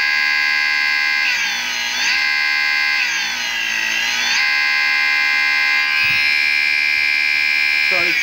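A 6 kW RC brushless motor driven by a PV 18F controller, clamped in a vise, emits a loud sustained electric whine with steady tones that ramp and wobble in pitch, with a few soft knocks near the end.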